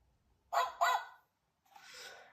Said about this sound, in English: Here is Daddy Dog and his mummy.